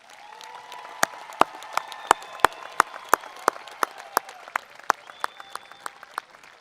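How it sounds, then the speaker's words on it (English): Applause for graduates at a college commencement ceremony, with dense crowd clapping under a few loud, evenly spaced individual claps that ring out near the front and fade toward the end. "Let's give them one more round of applause"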